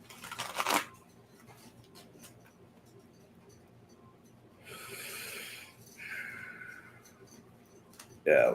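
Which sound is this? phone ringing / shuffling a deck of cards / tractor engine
shuffling a deck of cards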